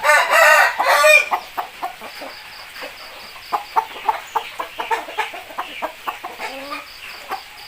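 A rooster crows loudly up close, then hens keep up a steady run of short clucks and soft calls, as young roosters are caught.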